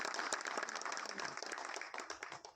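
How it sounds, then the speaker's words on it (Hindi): Quiet, steady audience applause from a crowd at a film promotion event for Bhaiyya Ji, dense and continuous with a brief voice mixed in. "तो एक बार थोड़ी जबरदस्त तालियां आनी चाहिए"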